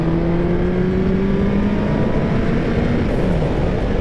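A Kawasaki ZX10R superbike speeds along a mountain road, its engine a steady, close, loud drone with sustained tonal whine throughout and no voices.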